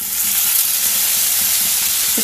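Chopped tomato sizzles and crackles steadily in a hot pan, a close, continuous frying hiss with no talking.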